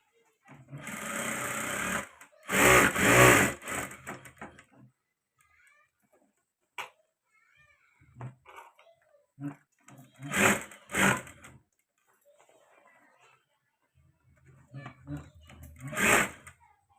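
Sewing machine stitching the side strip of a wedding bag, running in short loud bursts of a few seconds each with quiet pauses and small handling noises between runs.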